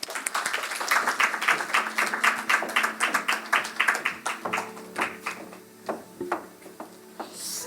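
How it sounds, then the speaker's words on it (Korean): A church congregation at a Friday prayer meeting claps in blessing as a deaconess comes forward, a lively burst of many hands that thins into a few scattered, slower claps toward the end. "그래서 우리 김소원 집사님이 나오셔서 간정 나누실 때 우리 축복의 박수로 하겠습니다."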